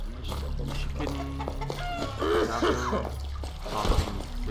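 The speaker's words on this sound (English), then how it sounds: "Chicken." A chicken clucks in the fantasy video game Arx Fatalis, a run of short throaty clucks over a steady low background hum from the game, fairly close and clear.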